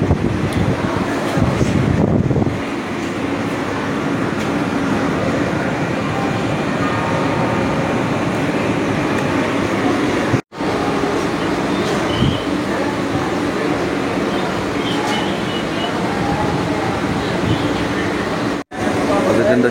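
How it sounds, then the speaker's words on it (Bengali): A local train pulls out of Howrah station, a steady heavy rumble with wind buffeting the microphone, briefly cutting out twice. "ট্রেনটা ছেড়ে দিল"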